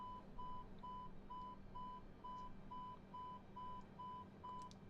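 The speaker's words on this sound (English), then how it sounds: "Go ahead and silence the alarm." A Boeing 717-200 cockpit alarm in Microsoft Flight Simulator beeps in a steady, evenly spaced series of short electronic tones, fairly quiet over a low cockpit hum.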